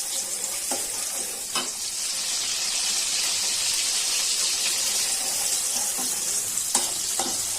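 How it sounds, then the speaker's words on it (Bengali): Chopped onions fry steadily in hot oil for a lightweight Bengali bottle gourd curry with snakehead fish, a continuous close sizzle and hiss broken by a few sharp clinks of a spoon against the pan. "এখন পেঁয়াজটা ভাজা হয়ে যাচ্ছে।"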